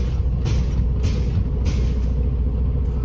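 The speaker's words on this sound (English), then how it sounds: "First, I would fan my brakes down to 90 psi at the examiner's request." Air brakes on a truck are fanned down during a pre-trip inspection, releasing several sharp, hissing bursts of air at regular intervals over a low, continuous idling engine rumble.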